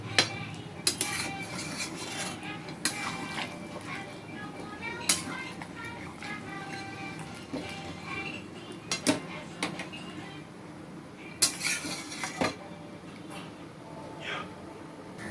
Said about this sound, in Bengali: জলটা দিয়ে ভালো করে মেখে নেব